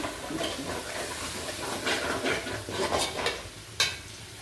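Tomatoes sautéing in a pan for a chicken curry: a soft, continuous sizzle with bursts of hissing steam as they are stirred and scraped around, ending in a single sharp clack, no talk.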